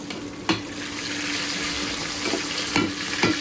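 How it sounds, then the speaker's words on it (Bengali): Whole spices such as cinnamon, cardamom, cloves, star anise and black cardamom fry with onion in oil for a Bengali beef and pumpkin curry, giving a steady close sizzle broken by a few sharp stirring clinks. "তো সব কিছু দিয়ে এখন ভালোভাবে ভেজে নেব"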